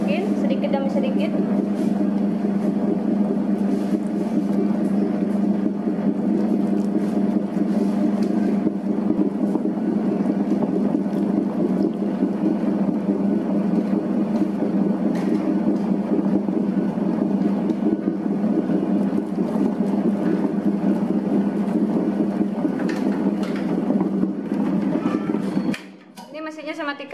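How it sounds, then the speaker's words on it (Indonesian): An electric dough mixer kneads bakpao dough made with Cakra Kembar flour and cold water, giving a steady, loud motor hum with a low churning drone that runs without a break until it cuts off abruptly near the end. "Nyalakan mesinnya, langsung mengadon."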